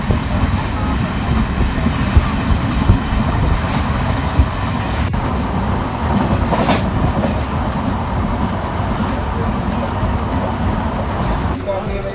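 The Ajmer Jan Shatabdi Express rolls along the Rewari–Rohtak line, a steady rumble with rhythmic clickety-clack of wheels over rail joints, close and continuous, with occasional faint voices.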